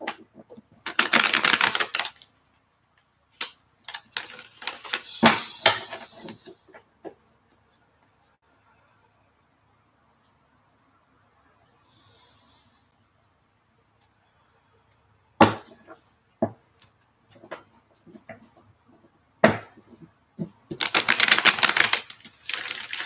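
Three tarot card decks shuffled by hand give bursts of crisp riffling and tapping, loud at the start and end with a quiet stretch between; a voice speaks in places.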